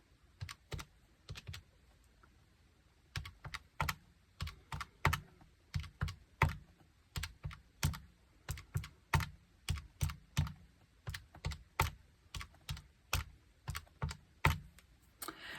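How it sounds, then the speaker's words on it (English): Calculator buttons are pressed to add up budget categories, giving sharp plastic clicks up close, first a few scattered taps and then a steady, fairly quick run of presses with no talking. "I can take my calculator and just start to add up the categories"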